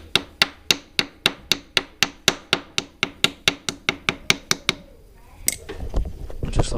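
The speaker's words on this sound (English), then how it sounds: "like I said, tap it back down in there" A hammer taps a small moon key back into its keyway on a Ditch Witch SK755 drive motor, with about twenty quick, evenly spaced metallic taps that stop before some closing handling noise.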